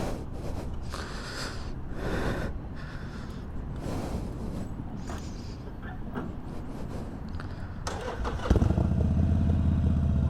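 Harley-Davidson Iron 883 motorcycle running as the ride begins, a continuous low engine rumble with a louder, fuller roar swelling near the end.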